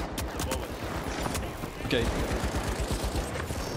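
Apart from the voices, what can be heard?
gunfire in a video game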